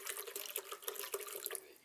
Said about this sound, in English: let's start off by adding around half a litre of water